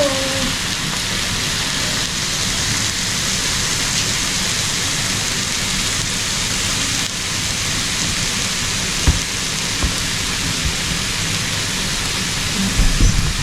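Steady rain hisses over everything, with a few faint distant thunder rumbles and a soft knock near the end.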